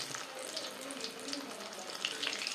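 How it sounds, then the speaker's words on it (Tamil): A samosa made with urad dal appalam dropped into hot oil, giving a steady soft frying hiss with faint bubbling crackles, close by. "இந்த மாரி எடுத்து எண்ணெய்க்குள்ளே போட்டுடணும்"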